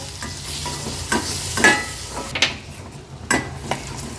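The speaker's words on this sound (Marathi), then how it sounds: "आता हे मसाले छान तेलावर आपल्याला परतून घ्यायचे आहेत" Ground spices (turmeric, red chilli powder, coriander-cumin powder) sizzle in hot oil while a spoon stirs them around a pan, with irregular scraping strokes over a steady close frying hiss; no talking.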